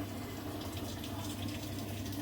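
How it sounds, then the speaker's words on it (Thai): Quiet, steady rush of water flowing into a Samsung washing machine after a repair for a no-water-intake fault, a soft continuous hiss and gurgle with no talking. "น้ำไหลเข้าแล้วครับ เนี่ย มีเสียงน้ำไหลเข้าแล้ว นะครับ"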